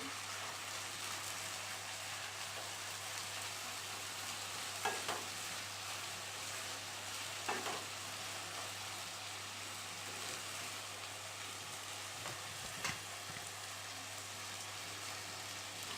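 Potato and bitter gourd slices fry in hot oil while being stirred, giving a soft, steady sizzle with a few faint scrapes of the spatula throughout.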